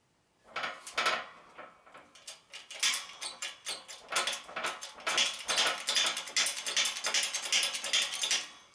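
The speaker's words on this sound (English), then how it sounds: "I'm gonna use one of these adapters here to press the bearing." A wheel bearing is forced out with a press and adapter: a steady series of sharp metallic clicks and creaks, close and fairly loud, repeating in quick uneven pulses with no talking.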